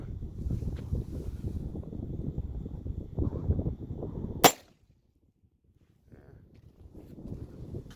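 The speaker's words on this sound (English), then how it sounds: "this is going to be the Czech lead core ammo. Let me try to get one on that plate" A single sharp gunshot from a Czech 7.62x25 lead core round cracks out against a steel plate, breaking through steady wind and rustling noise before a brief near-silence.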